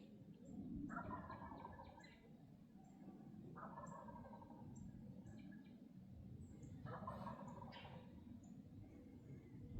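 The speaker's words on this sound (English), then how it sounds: "listening to where that bird was gobbling" A wild turkey gobbles from its roost during a Virginia spring hunt, three loud rattling gobbles spaced a few seconds apart at moderate distance over steady outdoor background noise.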